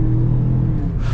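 A 2-liter engine in a 2022 Ford Bronco Sport Badlands pulls hard under acceleration, a steady low rumble with tonal engine drone heard from inside the cabin, rising slightly in pitch toward the end.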